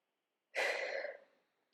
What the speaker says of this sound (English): Sorry, yawning happened.